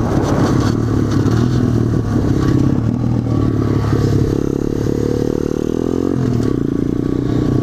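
An SSR 125 dirt bike with a stock motor is ridden out on a pipeline trail. Its engine drones loud and continuous, with pitch shifting as it revs, alongside rattles and wind noise from riding.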